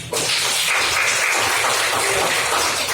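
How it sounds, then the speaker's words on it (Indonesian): A fifth-grade classroom claps together, a loud burst of many hands clapping at once that carries steadily for several seconds. "Kita tepuk tangan dulu buat semuanya."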